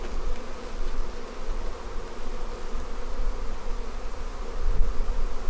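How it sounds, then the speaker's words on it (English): A dense, steady buzzing of many honeybees fills the air around a spring hive during inspection, continuous and close, with no speech. "Now that's a lot of bees right there."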